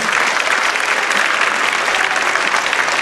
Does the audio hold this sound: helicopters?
no